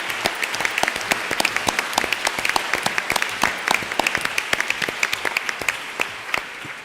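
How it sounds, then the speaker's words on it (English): Audience applause at a 25th anniversary ceremony in Bilbao, a steady round of dense clapping from a crowd lasting several seconds, moderately loud and without talk. "A warm round of applause."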